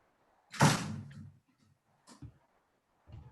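A door in a home bangs shut with one firm, close thud, followed by a few faint knocks and small bumps in an otherwise quiet room.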